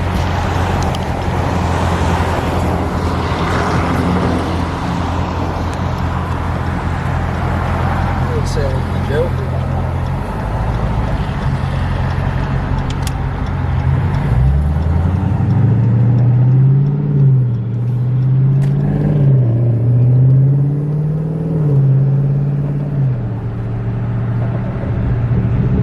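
A car engine hums steadily at close range, then revs up and down in a series of rising and falling surges over road noise.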